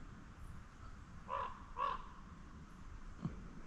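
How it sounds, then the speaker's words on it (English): A big raven gives two deep, hoarse croaking calls in quick succession, moderately distant and faint, over quiet outdoor ambience in public hunting woodland. "That's a big raven."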